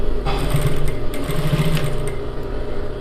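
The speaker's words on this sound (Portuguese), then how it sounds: "Vou costurando e tirando os alfinetes." A sewing machine running a straight seam, a loud continuous close-up mechanical whir with steady rapid needle rhythm throughout, no voices.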